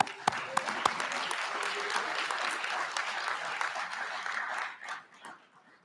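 Sustained audience applause at a university president's convocation, a dense even wash of many hands clapping from a large crowd, with a few sharp louder claps near the start before fading out at the end.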